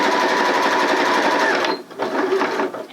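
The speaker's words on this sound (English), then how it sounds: "keep sewing. And just sew a few stitches over where you began." A Janome sewing machine stitches a circle skirt seam, with a loud, steady whir of rapid needle strokes that runs continuously for most of the time and then slows into softer, uneven bursts near the end.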